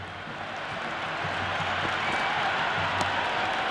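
A large stadium crowd at a Twenty20 cricket match in the video game Cricket 2026, Mumbai Indians versus Rajasthan Royals, roars in a steady, dense wash of cheering that swells slightly and holds loud throughout.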